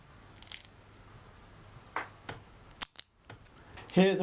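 Two plastic Command picture hanging strips with hook-like fasteners are pressed together, giving a few sharp clicks and snaps, close up against faint background hiss.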